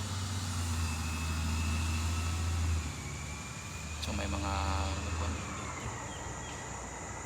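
Garbage truck rolling past at a state park campground, a low engine rumble that fades out partway before heavier mechanical clatter returns, with a person speaking briefly over it.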